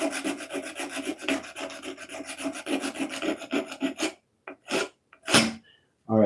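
Sandpaper rubs back and forth over a Kyosho RC motorcycle body in fast, rasping close-up strokes. The strokes stop after about four seconds, and a few separate scrapes follow.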